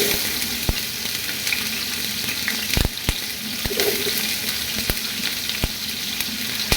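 Ghee sizzles steadily in a pan for home Eid cooking, with onions going in, a continuous crackling fry broken by a few sharp clicks and knocks from a utensil, close and fairly loud with no talking.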